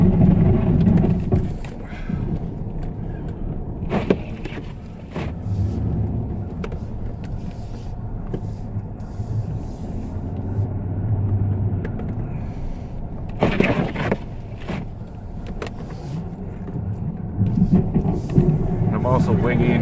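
A straight-blade snow plow truck pushes snow across a large parking lot, its engine a steady close rumble with scraping and a few sharp knocks, and someone talking over it at times.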